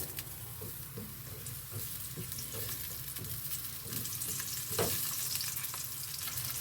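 Onions sautéing in hot oil in a pan, a steady close sizzle with soft scraping stirs and crackles that grow slightly louder toward the end, with no talk.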